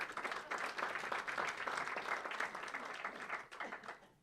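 An audience claps and applauds at a speech, a dense burst of many hands that holds steady for a few seconds before thinning out near the end.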